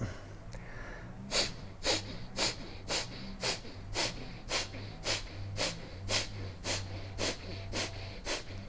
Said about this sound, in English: So you can hear that forceful exhale